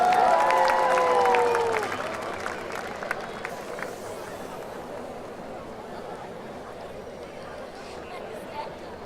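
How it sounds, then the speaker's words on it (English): Audience applause for a dance group at a youth event, scattered clapping and faint cheering that fades to a quieter hum of crowd chatter after a short amplified voice at the start. "Let's give JBC a big round of applause."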